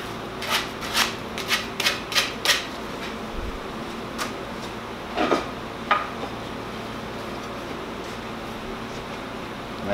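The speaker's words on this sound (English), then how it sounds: "take a little sandpaper, clean it up real fast, just rub it on the edges" Sandpaper rubs along the edges of a coped piece of crown molding in a quick series of short, close strokes, followed by a few scattered scrapes and handling sounds.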